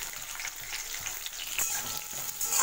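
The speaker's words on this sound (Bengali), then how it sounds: "দিয়ে টমেটোটা একটু ভাজা ভাজা করব।" Chopped tomato and onion fry in oil in a pan for a Bengali prawn malai curry, giving a steady close sizzle with faint crackles and a few small stirring clicks, no voices.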